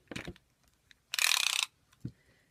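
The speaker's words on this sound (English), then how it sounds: "I lay my tape measure out" Tape measure ratchets and clicks as its blade is pulled out, with a short sharp burst of blade extension and a soft tap as it is laid down; quiet and close, no talking.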